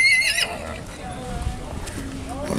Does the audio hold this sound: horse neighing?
yes